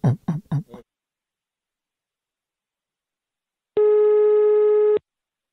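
A telephone line gives a single steady electronic tone lasting about a second after a call is dialled, heard alone after a few short bursts of voice at the start.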